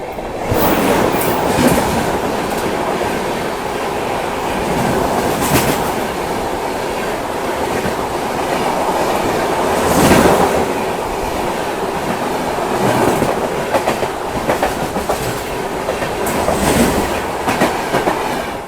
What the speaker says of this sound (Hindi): ये देखिए जी पहली क्रॉसिंग अपनी ट्रेन की हो रही है